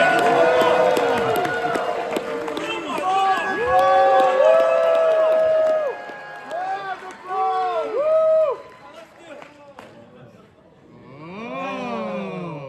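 Crowd cheering at the New York Comic Con 2023 Spider-Man panel, a hall of voices swelling loudly under a host's talking and rising again near the end.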